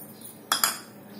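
A spoon stirs roasted poppy seed powder into sweet modak filling, two quick close clinks of metal against the pan over a quiet kitchen background.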